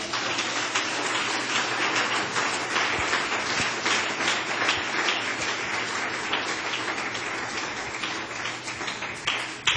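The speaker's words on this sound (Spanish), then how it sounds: "dale un aplauso al Señor" A church congregation applauds in a sustained, dense wash of clapping that holds steady throughout, heard from a moderate distance.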